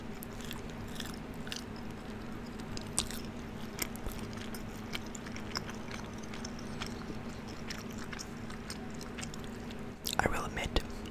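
Quiet close-up chewing and biting of Taco Bell food, soft wet mouth sounds with scattered crisp crunches, a few louder bites near the end over a low steady hum.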